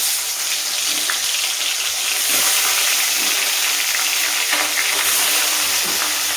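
Marinated chicken pieces frying in hot mustard oil, a loud, steady hiss and sizzle that swells slightly partway through, with occasional stirring scrapes and no talking.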